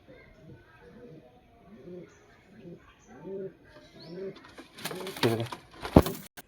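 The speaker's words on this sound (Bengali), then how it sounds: "এটা হচ্ছে মাদি পায়রাটা।" Kalshira pigeons, including a hen, coo in soft repeated rounded calls close by at a loft in Tehatta, Nadia, followed by a few sharp flutters and knocks near the end.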